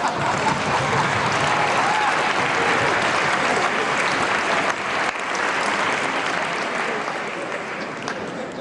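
Sustained, dense applause from a large gala audience fills the whole stretch at steady loudness, easing slightly toward the end.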